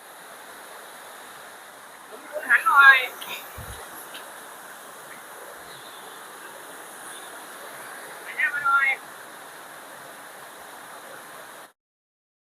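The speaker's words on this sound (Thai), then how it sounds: "อยู่นี้ก็เป็นด้านบนของน้ำตกนะครับ" Saeng Chan waterfall, also called Long Ru, near Ban Thung Na Mueang in Khong Chiam, heard from the top of the falls as a faint steady rush of water under two short bursts of someone talking.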